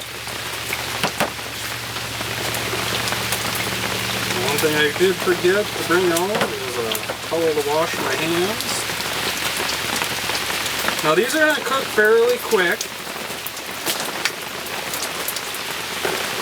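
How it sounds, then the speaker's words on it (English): Steady rain patters on a surface throughout, with someone talking over it in the foreground. "Apologize for the rain noise."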